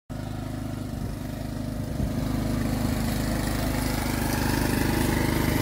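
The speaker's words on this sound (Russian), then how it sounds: "Первый раз в этом году траву косим." Lawn mower cutting grass in a backyard, a continuous loud close engine drone with steady rhythm that rises slightly partway through, no talking.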